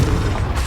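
Deep, rumbling blast of an explosive fire spell in Hogwarts Legacy, a short, heavy boom with low-end roar filling the whole instant.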